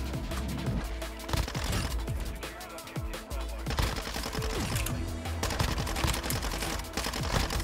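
Rapid automatic gunfire in the shooter game Call of Duty: Modern Warfare II, with dense, loud bursts of shots and cracks packed close together, layered with other game effects and a voice talking briefly.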